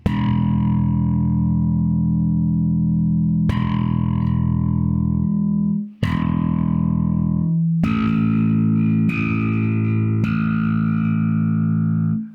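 A low E on an electric bass strung with Ernie Ball Cobalt Slinky strings, plucked and sustained several times in a row, loud and close, heavy with the roundwound growl and harmonics, no voices over it.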